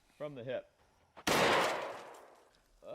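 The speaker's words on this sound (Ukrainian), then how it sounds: "Я зроблю три постріла із стегна." A single loud, close shotgun blast rings out and fades away, with a brief voice just before and after.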